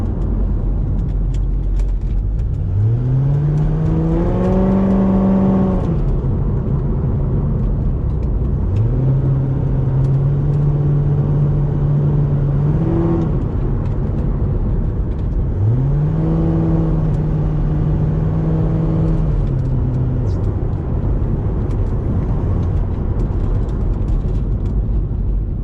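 A Chevrolet Corvette fitted with new Wilwood brake pads and rotors drives on the road, its engine rising in pitch through gears in repeated rev sweeps over a steady tyre and road rumble, with no talk.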